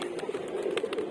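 Pigeons let out from a loft give a steady, close cooing murmur, broken by brief soft bursts that could be wingbeats.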